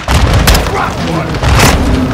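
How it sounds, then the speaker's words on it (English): Loud booming grenade blasts in a Call of Duty Modern Warfare II combat battle, heavy low thumps and rumbles at the start and again near the end, with shouted voices mixed in under the chaos. "They're launching grenades!"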